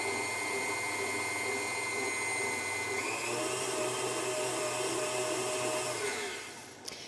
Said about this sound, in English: Because I'm using a stand mixer and I don't want the cocoa powder and the sugar to go flying everywhere, I start off on a low speed